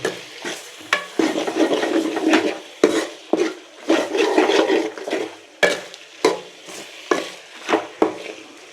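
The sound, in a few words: stirring lung fry in a pan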